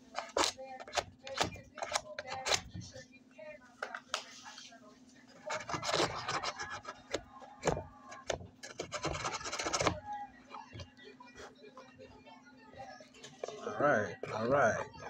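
Wood rubbed by hand with a makeshift sanding material, a run of close scratchy rasping strokes in irregular bursts with pauses, and someone talking now and then over a low steady hum.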